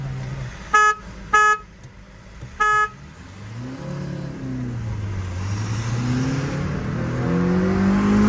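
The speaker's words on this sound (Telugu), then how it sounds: "ఇప్పుడు 3 హార్న్ మనోడు కొడతాడు" A Hyundai Verna diesel sounds its horn three times in short, loud, evenly pitched blasts, two close together and a third after a pause, before a car engine revs and rises steadily in the background at a drag race against a Honda Accord.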